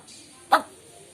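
A human voice mimics a dog with one short, sharp growl-like bark burst, loud and close, set against a quiet room.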